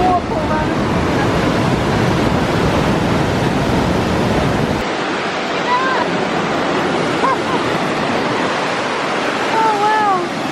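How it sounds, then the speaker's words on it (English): A massive waterfall in the Groppensteinschlucht gorge in Austria roars as a steady, loud broadband rush along a boardwalk hiking trail, with birds chirping faintly over it; the roar drops somewhat halfway through. "it's a massive waterfall around the corner"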